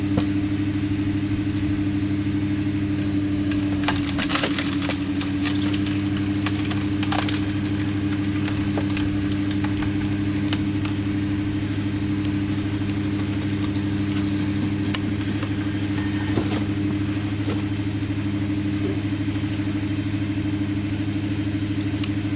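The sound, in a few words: Stickler log splitter engine running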